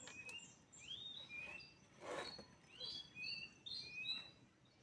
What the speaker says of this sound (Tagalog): Nadidinig nyo bang huni ng ibon?